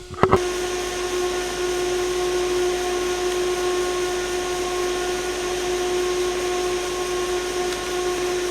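A Noctua NF-F12 pressure fan runs at full speed with a steady airy whoosh and a constant tonal whine, loud and unchanging after a brief click at the start, with no voices.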